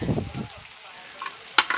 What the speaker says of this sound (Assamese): এয়া কাচকল ফ্ৰাই মোৰ প্ৰায় হৈ গৈছে।